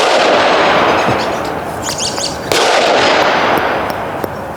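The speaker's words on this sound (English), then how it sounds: "if you shot with the HUXWRX Flow 22 Ti" A loud, close shot comes from a rifle fitted with a HUXWRX Flow 22 Ti suppressor, followed by a second report partway through. Each is a sharp crack that leaves a noisy, hissing decay, and no one speaks.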